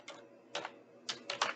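A computer keyboard tapped to enter species names, about four soft, separate keystroke clicks spaced unevenly over a second and a half, close and quiet against a silent background.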